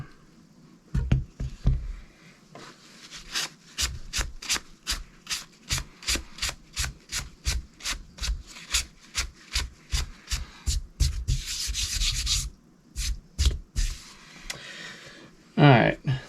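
Cold Steel Mayhem knife drawn across the coarse side of a Sharpal 162N stone in a steady series of about two dozen short, evenly spaced rasping strokes, close and crisp, with brief pauses and a few heavier scrapes near the end.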